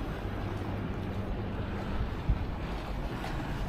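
Sea waves at a harbour wall at night, a steady low wash of surf mixed with wind noise, fairly loud and continuous, with one soft thump near the middle.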